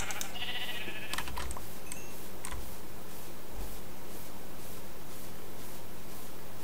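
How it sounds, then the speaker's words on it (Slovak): Sheep bleat in the Minecraft survival game, a few short blocky bleats mixed with rapid keyboard tapping and clicking over a dense, constant background. "Sem je ovca, sivá. Sem je biela."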